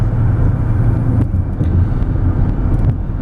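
A 1990 Acura Legend Coupe cruising on the road, its steady low engine and tyre rumble heard from inside the cabin, continuous and fairly loud with no talk.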